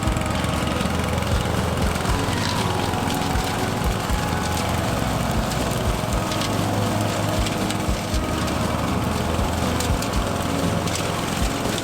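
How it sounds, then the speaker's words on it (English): Lawn mowers run in a loud, steady engine drone that persists without a break, with scattered clatter and rustle over the running motor. "No Husqvarna today, but we do have lawnmowers."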